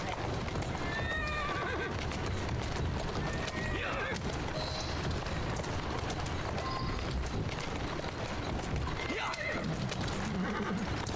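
In the Assassin's Creed Syndicate video game, horses clip-clop on the streets of Victorian London while whinnies ring out now and then over a busy steady background of carriage traffic.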